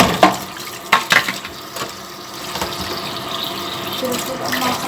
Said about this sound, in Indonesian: Kita cuci dulu ya.